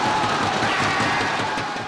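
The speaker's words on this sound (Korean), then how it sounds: "서로 부둥켜 안고 환호성을 지르며 기쁨을 만끽합니다" A large crowd of Korean football fans erupts in sustained loud cheering and shouting after Lee Keun-ho's opening goal against Russia.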